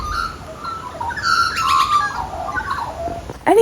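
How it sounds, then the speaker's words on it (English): Parrots squawk and call from trees in Melbourne, several drawn-out harsh cries rising and falling over a few seconds, fairly near, with a sharp louder squawk at the end. "Parrots flying everywhere."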